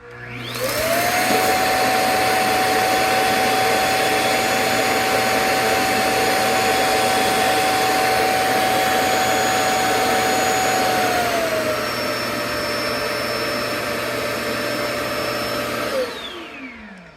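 A Shark WS642AE WandVac handheld vacuum whines up to speed, runs loud and steady with a high motor whine that shifts pitch partway through, then winds down near the end, with no talking.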